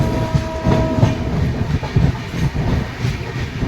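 The New Delhi–Malda Town Express passenger train runs between Buxar and Ara Junction, a loud close rumble with a steady rhythmic clickety-clack of wheels over rail joints throughout.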